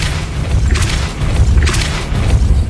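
The Depulso force spell fires in Hogwarts Legacy, producing loud, deep booming blasts with a low rumbling body and two sharp bursts of impact, heavy and close throughout.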